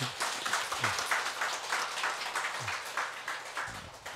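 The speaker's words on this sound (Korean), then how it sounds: "박수 한번 치시고." Audience applause at a Buddhist dharma talk welcoming a visiting rinpoche: steady, moderately loud clapping from a crowd that holds evenly through the whole stretch without voices.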